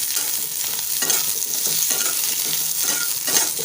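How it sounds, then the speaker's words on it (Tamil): Ridge gourd peel sautéing in hot oil while being stirred, a steady close sizzle with soft scraping strokes of a spoon or ladle throughout, no voices. "நல்லா வதக்கிக்கலாம்."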